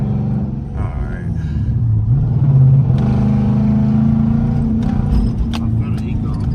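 A Hemi-powered car with a wind booster throttle controller pulls away gently in normal mode, its deep engine rumble rising slowly and steadily under the talk of people inside the cabin.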